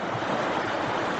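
Water rushing steadily in Bent Creek, a small river in the Blue Ridge Mountains near Asheville, a dense continuous wash with no voices over it.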